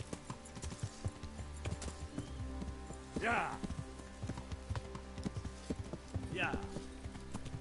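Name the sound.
horse hooves and neighing in video game Kingdom Come: Deliverance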